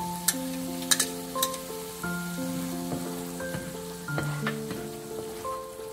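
Mustard paste goes into sizzling fried spice masala for coconut hilsa malaikari, a soft crackling fry with a few sharp spits, heard beneath steady background music.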